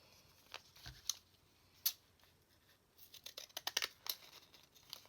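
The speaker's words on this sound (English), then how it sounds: "I like using these little decal scissors because it just makes it look like the edges are torn." Small decal scissors snip through old scrap paper in a series of crisp, close cuts, sparse at first and then quickening into a rapid cluster of snips, with no talking.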